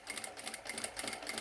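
A sewing machine stitching a knit hem from the wrong side: steady, rapid mechanical whirring and needle clatter, close and continuous.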